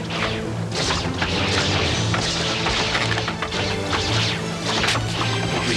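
Battle clash in an animated medieval sea fight, with archers firing from a ship's bulwarks: a loud, dense barrage of whooshes, whacks and crashes with a churning low rumble underneath, continuous throughout.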